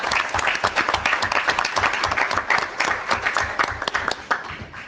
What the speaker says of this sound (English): A round of applause for you also.